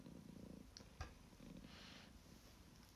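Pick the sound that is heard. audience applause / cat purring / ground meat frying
cat purring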